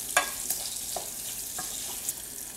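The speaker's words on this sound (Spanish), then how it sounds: "Observen ya cuánta grasa nos ha dado el bacon, pero hay que sofreír las salchichas." Sausages and bacon fry in rendered bacon fat in a pan, giving a steady broadband sizzle with a few scattered crackles and pops at moderate, close-up loudness.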